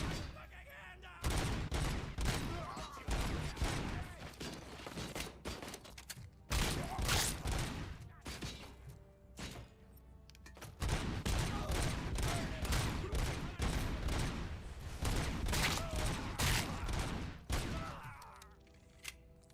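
Sustained gunfire in the RoboCop: Rogue City shooter game, with long, dense volleys of shots that break off briefly and then resume, set among mechanical clanks and some voices.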